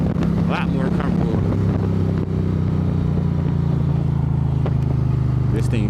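An Indian motorcycle in Street Glide style with stock pipes idles with a steady low engine rumble, close and loud, while someone talks over it.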